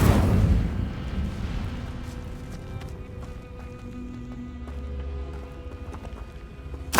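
Casting the Incendio fire spell in Hogwarts Legacy sets off a loud whooshing burst of flame up front that fades into a lower crackling rumble, with another sharp hit right at the end.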